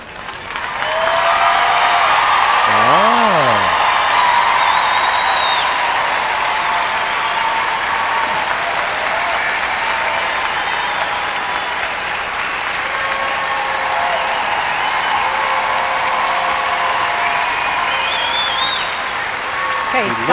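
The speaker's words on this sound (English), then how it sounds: "The crowd loves it." Crowd applause and cheering at a Westminster Kennel Club dog show as a Kerry Blue Terrier is shown, a sustained loud roar across the whole stretch with a handler's voice talking over it.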